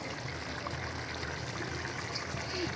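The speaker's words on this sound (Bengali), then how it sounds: "মাংসটা কষানো হয়ে গেছে, একটু শুধু পানি দিব।" Water is poured into sautéed chicken curry in a pan, making a steady trickling, bubbling stream that runs continuously and fairly close for a few seconds.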